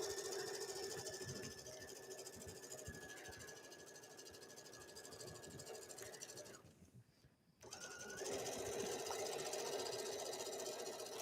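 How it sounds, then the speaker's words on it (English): Sewing machine stitching along a fabric edge of a bathing suit coverup, a steady close whirring hum with a brief stop and restart partway through, no talk. "we're just stitching right along the edge. Capturing both seam allowances and the underpiece"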